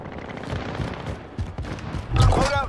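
Rapid bursts of gunfire crackle through a Warzone battle royale match, dense and continuous with a louder close volley near the end, under a player's voice.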